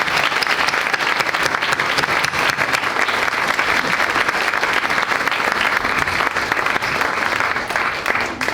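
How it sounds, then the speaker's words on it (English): Sustained, dense audience applause fills a candidate forum for a Woodstock primary election, steady and loud throughout with no break or talking over it. "I would like us to give a round of applause to the folks who have really put themselves"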